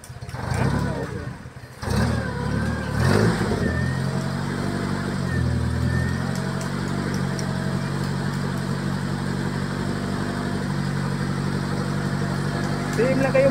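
A Jeep-style owner-type vehicle with a custom sound setup runs at a steady, loud, continuous hum, with a brief dip early on, at a display center where people talk over it.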